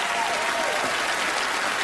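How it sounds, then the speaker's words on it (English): Dense audience applause fills the moment as a volunteer walks up to join a magician on stage, steady clapping with a faint crowd murmur and no break. "let's have a round of applause for him as he makes his way out."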